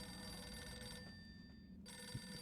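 A telephone in the Ghosthunter video game rings with a quiet, steady electronic trill that cuts out briefly and then resumes, heard alone against faint background hum.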